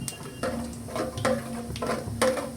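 Cumin seeds crackle and sizzle in hot oil with bay leaf, white cardamom and cinnamon, the base for a bilimbi fish curry, with a steady frying hiss broken by a few sharp spoon-against-pan clinks.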